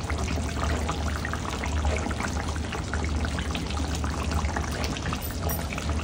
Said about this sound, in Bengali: এবার জাস্ট এতে একটু দিয়ে দেবো ঘি।